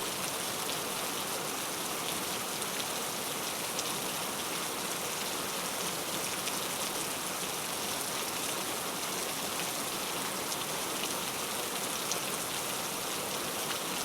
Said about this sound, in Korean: 잠깐 빗소리 들어볼까요?